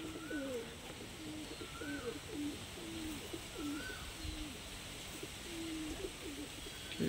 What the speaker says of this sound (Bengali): একটু মুখোমুখি ধরুন পায়রা দুটো